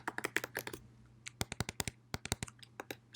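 Keys clatter on a computer keyboard while JavaScript code is written, quick irregular bursts of close, fairly soft keystrokes with brief pauses, no voices.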